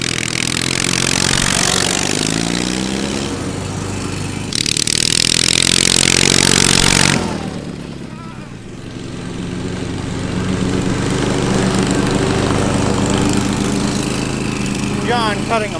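A 450cc twin-cylinder push lawn mower races flat out, its engine roaring loud and close, dropping briefly before revving back up and holding a steady drone.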